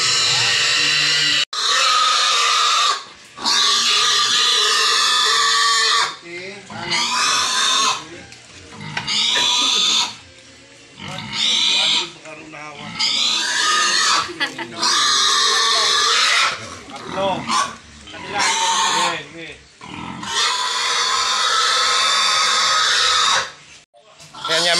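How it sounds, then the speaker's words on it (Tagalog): Pigs at play under banana trees grunt, squeal and scream loudly and repeatedly in overlapping bursts, close by, with someone talking over them now and then. "Ang ating mga baboy ito naglaro na sa puno ng saging"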